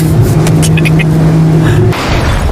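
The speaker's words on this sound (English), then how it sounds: "driving overpriced, loud cars On a private racetrack" A loud, close sports car engine drones at a steady pitch on a private racetrack, then cuts off abruptly near the end.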